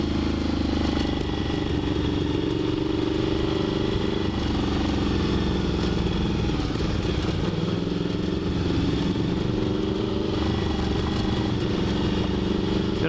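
Ian Fitzgerald's Despatch Tracker motorcycle being ridden, a continuous loud, rough engine drone with throttle rising and falling, close and steady throughout without speech.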